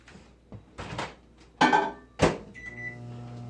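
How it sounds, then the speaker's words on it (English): A microwave oven door thumps shut and buttons are handled, then the oven starts with a low steady hum and a brief higher whine, close and alone. "I'll just pop it in the microwave."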